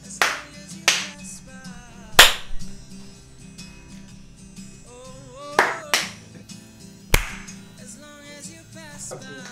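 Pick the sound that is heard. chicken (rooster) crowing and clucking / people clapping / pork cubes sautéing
people clapping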